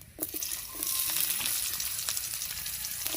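Sliced onion dropped into hot oil with two reddened bay leaves, sizzling and crackling steadily at close range with occasional stirring clinks, prepared for a Bengali muri ghonto with katla fish head and gobindobhog rice.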